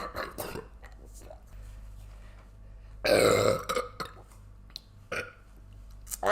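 A man lets out a loud, drawn-out burp of about half a second after drinking cold beer, close up, with scattered shorter throat noises and brief speech-like sounds around it.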